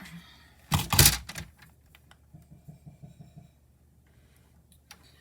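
Paper being trimmed for a stamped flower card, with one loud crisp cutting burst near the start followed by a soft run of small even clicks and rustles, close by and with no talk.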